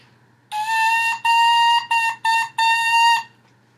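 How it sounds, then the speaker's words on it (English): An oboe reed blown on its own plays a one-bar rhythmic pattern: five sharp, squawking buzzy tones of differing lengths, loud and close, with no talking. "I'm going to play a little one-bar rhythmic pattern on the reed"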